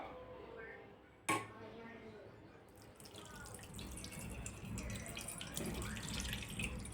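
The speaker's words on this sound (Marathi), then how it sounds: "चला तर आता आपण हे दूध आहे ते ह्याच्यामध्ये टाकून घेऊयात." Curdled milk poured into a strainer to make paneer, with the whey draining through: a sharp knock of the vessel, then a steady splashing pour that grows louder and keeps running.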